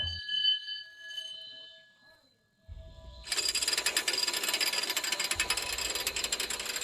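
A coal mine hoist mechanism hauling up its reel sets off a steady, dense mechanical ratcheting clatter. Before it starts there is a faint ringing tone, then the grinding runs on loud and unbroken.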